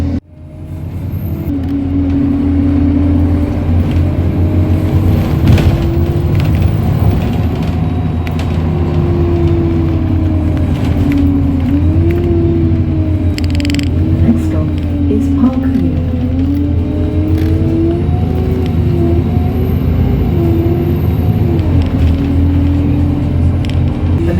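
A Metro Bus Enviro 200 MMC drives route 424 toward Crawley Bus Station, its engine a steady, close rumble with a drone that rises and falls and occasional rattles and knocks throughout.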